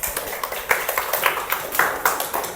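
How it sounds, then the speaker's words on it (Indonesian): A classroom of students clapping for a presenting group, uneven bursts of many hands near and loud, with sharp individual claps poking through the patter. "Tepuk tangan dulu untuk kelompok 3"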